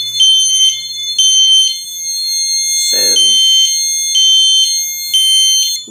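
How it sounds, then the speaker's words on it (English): A fire alarm rings from a miniature pull-station alarm panel, sounding loud, close, evenly spaced electronic tone pulses while someone briefly speaks over it. "And the alarm will go off now."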